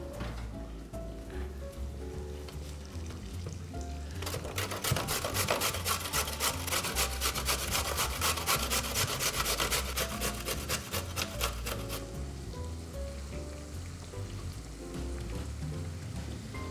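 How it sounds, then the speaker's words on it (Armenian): A carrot is rubbed against a grater in fast, even rasping strokes, close and fairly loud through the middle, with quieter kitchen sounds before and after. "Ես քերում եմ, որպեսզի արագ ստացվի։"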